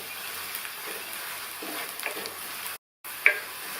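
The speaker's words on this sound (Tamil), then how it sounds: "இதை நல்லா வதக்கி விட்டுக்கலாம்." Roasted spice powders are stirred and sautéed in hot oil in a pan, giving a soft, close sizzle with scraping stirs, broken by a short silent gap near the end.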